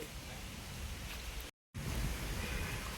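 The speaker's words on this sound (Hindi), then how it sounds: "हल्की आई है वैसे बारिश तो, है ना।" Light rain falls steadily outdoors on a morning walk, a soft continuous hiss of drops close around, with a brief dropout in the middle before it resumes.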